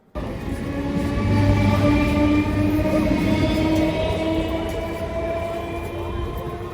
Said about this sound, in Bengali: এই ট্রেনটা হাসনাবাদ অবধি যাবে